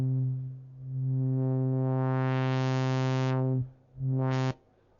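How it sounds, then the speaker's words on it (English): A harmonically rich synthesizer tone runs through a low-pass filter whose cutoff slowly opens and then snaps shut, the sound brightening gradually before cutting off, followed by a short bright burst; a steady electronic drone with no voices. "The low-pass filter sounds about like this"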